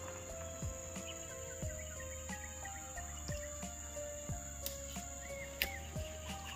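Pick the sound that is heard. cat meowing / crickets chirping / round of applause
crickets chirping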